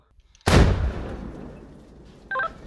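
A single powerful blast from an SPG-9 recoilless gun with a sharp onset and a long rolling echo fading away, followed by a brief electronic beep.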